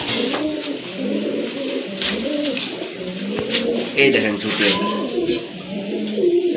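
Large Indian Bombay pigeons coo in a repeated low, rolling murmur close by, while someone talks over them throughout.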